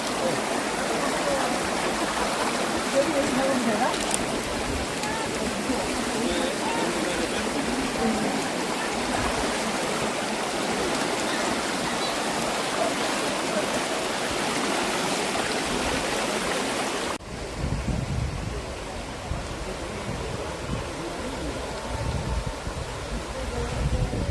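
A clear mountain valley stream on Sori Mountain in Yangpyeong rushes in a steady, dense wash of water that fills the whole stretch, close and loud, shifting to a slightly duller, lower roar near the end.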